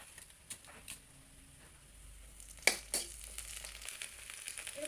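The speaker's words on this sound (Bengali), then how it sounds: "পেঁয়াজ একটু ভেজে নিচ্ছি।" Onion fries in hot oil in a pan, a soft sizzle running throughout with a few sharper crackles and spits near the middle, heard up close with no talking.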